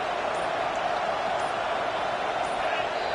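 A stadium crowd in a football video game keeps up a constant, loud roar, with a voice faintly present beneath the wash of noise.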